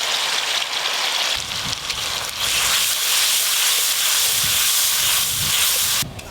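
Whole garam masala and an onion, ginger and garlic paste sizzle loudly in hot mustard oil, a dense steady hiss close by that runs almost throughout with a brief drop at the end.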